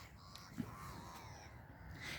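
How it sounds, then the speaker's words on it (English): Crows caw faintly in the distance, a few scattered calls over a quiet outdoor background. "Those birds are noisy this morning"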